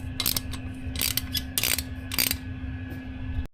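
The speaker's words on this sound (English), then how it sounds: "So now you're going to want to take a 12mm socket and take the header bolts out." A 12mm socket on a ratchet loosens motorcycle header bolts during an exhaust install on a Kawasaki Ninja 650, giving four quick bursts of close ratcheting clicks over a low steady hum.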